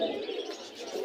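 A pigeon at the Jinjira pigeon market in Bangladesh gives a short, close, throaty coo that fills the brief moment on its own.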